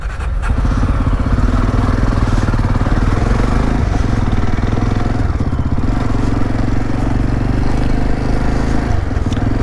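A group of Harley motorcycles rides close by on a road near Srinagar, their engines rumbling loud and steady, with a continuous throbbing drone and small shifts in revs throughout.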